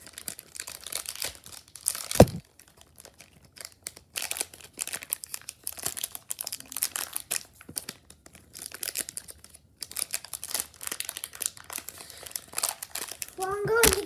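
A Pokémon card booster pack wrapper crinkles and tears in short bursts of crumpling close by, with a sharp rip near the start and softer handling noises throughout, with a voice at moments.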